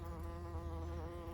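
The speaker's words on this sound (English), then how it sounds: "Yay, bees." Bees buzz in a steady, faint hum near backyard hives, a continuous drone with no breaks or voices.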